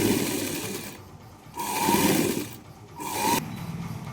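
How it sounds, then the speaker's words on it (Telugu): A sewing machine runs a double line of stitching along the shoulder seams of a lined blouse, in two or three short bursts separated by brief pauses, moderately close. "ఇలా డబల్ కుట్టు ఇంకోసారి వేసుకోవాలి"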